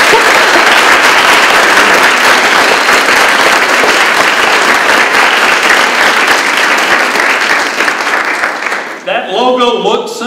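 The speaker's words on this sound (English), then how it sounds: "Please give them a round of applause." A staff forum audience gives a loud, sustained round of applause, many hands clapping close and steady for about nine seconds before it breaks off and a voice begins speaking.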